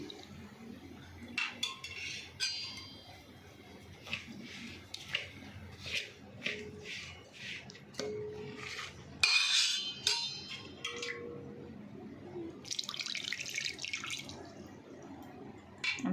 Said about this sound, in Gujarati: હવે આપણે એમાં ખાટી છાશ નાખવાની, થોડી થોડી નાખતું જવાનું અને આપણે ઢોકળાનું બેટર હોય એવું બેટર બનાવી લેવાનું છે મિક્સ કરી અને